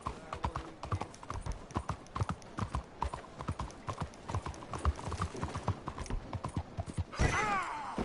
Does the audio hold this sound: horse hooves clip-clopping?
yes